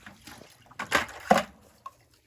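Water is poured into a soil microorganism mix in a few quiet splashing bursts close by, then trails off to near silence.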